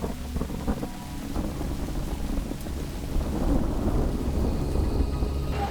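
Heavy rain pours down before an outdoor stadium show while low thunder rumbles and rolls through, swelling louder toward the end, with no voices.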